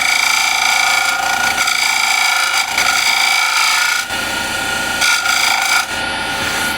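Standard scraper cutting the inside of a wooden bowl on a lathe under light pressure, a loud, continuous rasping scrape with brief dips and surges as the tool moves across the spinning wood.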